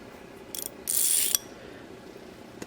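A 5/8 SK X-Frame ratcheting wrench clicks in two quick bursts, a short rattle followed by a longer, brighter run of fine ratchet teeth, close and crisp against a quiet room.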